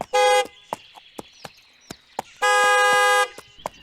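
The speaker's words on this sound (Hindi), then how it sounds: "उसने हॉर्न देना शुरू करा" A car horn sounds twice, a short blast then a longer one, with sharp clicking taps in between.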